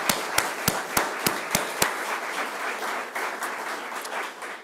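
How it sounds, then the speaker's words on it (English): Employees applaud at a company event, with a row of loud, evenly spaced sharp claps close to the microphone standing out over a broader wash of crowd clapping that continues and softens. "you should applaud yourselves, this company, and this CEO for the great job that they did"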